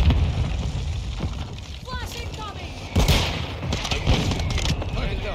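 Mortar strike explosions and gunfire in a multiplayer shooter game, a dense loud barrage of booms and shots rumbling continuously, with a heavier blast near the midpoint and players talking over it.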